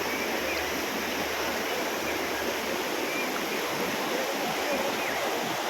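Rising floodwater rushing beneath a bridge, a dense continuous roar of turbulent water, loud and steady throughout, with no clear talking.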